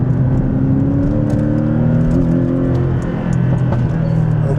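Porsche 718 Boxster GTS driven on an unfamiliar road, its engine holding a steady, loud, close drone with a brief lift in revs midway; no talking.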